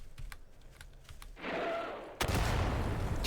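Artillery shells explode in the video game Garry's Mod, with two heavy booming blasts that rumble on after faint clicks at the start.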